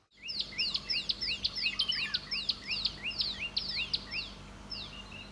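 Sparrows chirping at sunrise in the woods, a steady run of bright, quick repeated chirps from several birds, fairly close and clear over a soft outdoor hush, with no talking.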